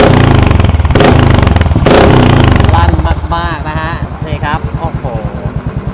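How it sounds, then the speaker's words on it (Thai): A 2017 Royal Enfield Continental GT535 motorcycle with an aftermarket exhaust revs loudly and roughly, then settles into a throbbing idle with a fast, steady exhaust pulse while a voice talks briefly over it. "คันนี้เป็นท่อแต่งนะครับ เมดอินไทยแลนด์แล้วมาฟังเสียงกันครับ"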